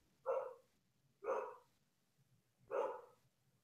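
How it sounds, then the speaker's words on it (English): A dog barks three times at a steady spacing of about a second, each bark short and clear, moderately close against a quiet background. "I can't stand a barking dog"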